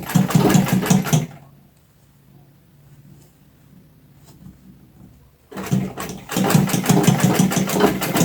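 A sewing machine stitching gathered fabric runs in two loud, rapid bursts, first at the start and again near the end, with a quiet lull in between.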